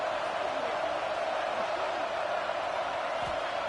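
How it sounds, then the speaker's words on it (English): Stadium crowd roar in the College Football 26 video game during a third-down play for Alabama, a dense, steady wash of cheering noise that holds evenly throughout. "The Tide crowd rolling noise down onto Saban Field on third down."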